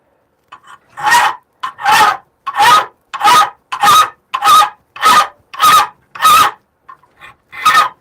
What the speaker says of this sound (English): now let's see about getting some hand filing in on this